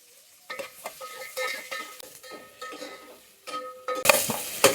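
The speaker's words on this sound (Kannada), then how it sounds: "ಸ್ವಲ್ಪ ಆನಿಯನ್ ಫ್ರೈ ಆಗಬೇಕು." Onion frying with garlic and green chillies in a home kitchen pan, stirred with a utensil in soft scraping bursts over a gentle sizzle, ending in a louder, brighter sizzle.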